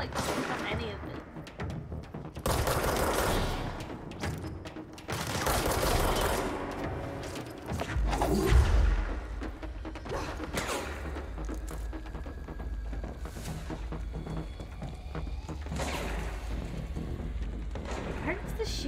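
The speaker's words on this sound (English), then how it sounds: "Where's the shooting coming from?" Gunfire in the video game Control, several loud sustained bursts of shooting with heavy impacts in between, backed by a low rumbling game ambience and a voice speaking over it.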